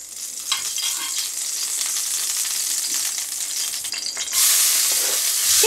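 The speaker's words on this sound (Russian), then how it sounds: "И обжариваем лук до золотистого цвета." Onion sizzles steadily in sunflower oil in a frying pan, a loud dense hiss with occasional stirring scrapes, and it swells brighter near the end.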